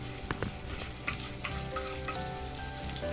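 Garlic fries in oil in a pan with a steady, dense sizzle and crackle that fills the whole moment, close and continuous, with a few sharper pops and stirring scrapes on top.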